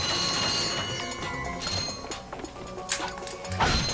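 Bolts being collected in Ratchet and Clank, a PS3 video game, heard as a dense clatter of small metallic clinks and mechanical rattles over game sound, with brief crashes and chimes.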